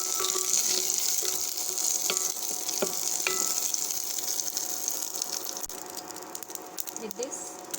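Curry leaves fry with green gram dal in hot oil in a pan, giving a steady, close sizzle and crackle broken by a few small clicks and knocks from stirring.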